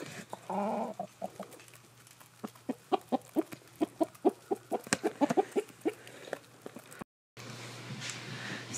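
Backyard chickens cluck in a rapid run of short, fairly close calls, with a brief gap before a burst of louder coop noise at the end.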